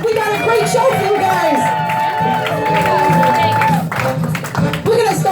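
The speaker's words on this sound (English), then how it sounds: "Give yourselves a round of applause for coming out tonight." A comedy club crowd claps and cheers, with whoops and shouts over loud, close applause that rises and swells across the stretch; a voice calls out over the noise.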